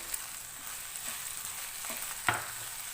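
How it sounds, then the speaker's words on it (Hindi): Carrots and chopped cabbage fry in a pan over a medium flame. A steady sizzle runs throughout, broken by a few soft scraping stirs, with no talk. "अब मैं इसके अंदर 1/2 कप बंद गोभी ऐड करूँगी। मिक्स करेंगे।"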